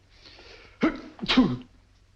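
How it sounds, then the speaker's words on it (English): A person sneezes twice in quick succession, close and fairly loud, after a brief wheezy breath. "Gesundheit."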